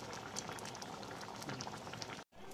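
A covered pot of dhaba-style pea ghugni simmers steadily, with a dense, close bubbling and popping that continues evenly and then breaks off briefly near the end.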